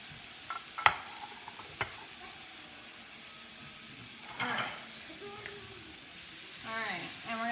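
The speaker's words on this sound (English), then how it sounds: "we're gonna start to mix this up and let this cook in" Ground meat for enchiladas frying and being stirred in a pan, a steady low sizzle with a few sharp utensil knocks and scraping stirs, close up and moderately quiet.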